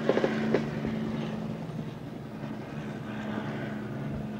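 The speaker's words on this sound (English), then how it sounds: "You hear the helicopter overhead here." A helicopter flies overhead during riots, a low, distant rotor drone humming steadily, with a few faint knocks at the start.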